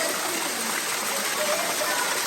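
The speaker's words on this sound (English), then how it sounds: "Interesting feature, a hole in the rock wall, and there's a waterfall." Small waterfall spilling from a hole in a mossy rock wall inside a botanical garden conservatory, a steady close hiss of falling water with no breaks and no voices.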